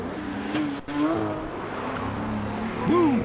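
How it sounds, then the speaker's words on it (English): Toyota Corolla GR rally cars pass on a closed road stage at the Adelaide Rally, their engines a continuous droning roar with rising and falling revs and a louder surge at the end, under a commentator's voice. "here are the first of those cars now coming through"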